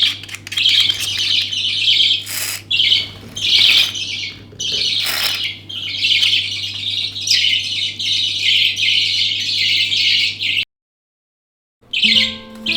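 Hand-fed baby budgies chirp and squawk in near-continuous, shrill bursts close to the mic over a steady low hum, with a brief silent gap before a few more calls.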